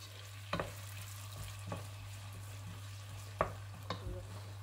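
A wooden spoon stirs chicken in a pot over a low simmer, giving a few soft, scattered scrapes and knocks against a steady background hum, faint and close, with no talking.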